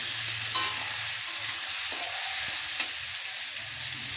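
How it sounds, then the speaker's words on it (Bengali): Mango pieces frying in a pan of spiced oil on a stove, with a steady, close sizzle and a couple of sharp clinks from stirring. "এরপর দিয়ে দেবো আমটা ভালো করে ভাজতে থাকবো চুলোতে"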